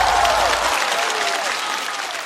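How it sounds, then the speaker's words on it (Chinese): A stand-up comedy show audience applauds a comedian after his set, a dense, enthusiastic ovation opening with a brief musical sting and gradually fading. "热烈的掌声送给贾浩。"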